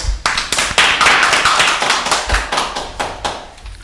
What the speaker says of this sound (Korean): 저희 박수로 맞이할까요?